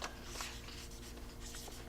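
Pencil or pen scratching steadily across sheets of paper while a second draft is written, a faint continuous rustle with soft strokes and no talking.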